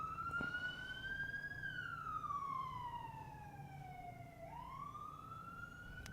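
A police or ambulance siren sounds on a Brooklyn street, one slow wailing rise and fall carried over a low rumble of traffic, moderately distant and steady.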